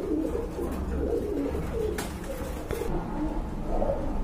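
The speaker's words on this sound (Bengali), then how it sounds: "মাশাআল্লাহ একটা কবুতর ভাই" A pigeon being offered for sale coos repeatedly in a steady, close rhythm over low background noise.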